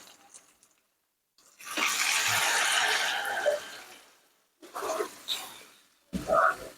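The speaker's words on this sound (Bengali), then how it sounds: "এবার আমি পানি দিয়ে দিচ্ছি।" Water is poured in short bursts into a pan of browned chicken pieces, with splashing and sizzling in a small home kitchen; there is a long pour followed by two brief splashes, all close and fairly clear.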